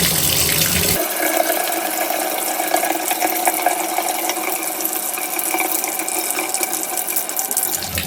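Water drains out of a shower supply line through an opened tap after the main is shut off at the street. A steady, close rushing hiss starts abruptly about a second in and runs on unbroken.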